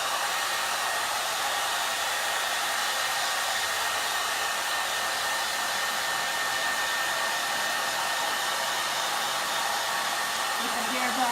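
A hair dryer drying chalk paste blows steadily with a constant broadband whoosh, loud and close, running unbroken throughout.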